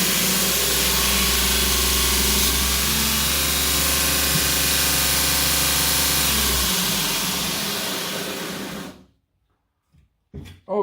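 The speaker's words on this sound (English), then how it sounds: "I continued to use this grinder for another half an hour." A Grizzly 2x42 belt grinder with a 750 motor runs with a steady loud hum and grinding whir on hardened steel, then winds down and falls silent, followed by a few faint knocks.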